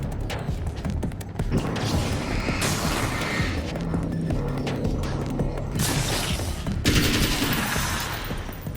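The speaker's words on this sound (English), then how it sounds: "The assault rifle. Let's do it." An assault rifle fires in the video game Alan Wake's American Nightmare, with loud sustained bursts of automatic gunfire and mechanical clatter running densely through the whole stretch.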